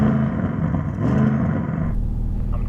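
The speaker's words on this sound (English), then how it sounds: "Let's rev up the Audi RS6 to see if it can sound better than this naturally aspirated V10" An Audi RS6 engine revs up in a steady low rumble, then drops back abruptly near the end, heard from close by.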